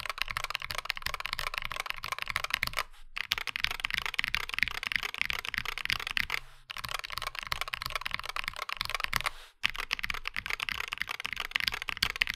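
Continuous rapid typing on a modded Wooting 60HE mechanical keyboard with tape mod, crisp clacky keystrokes close up, with a few brief pauses.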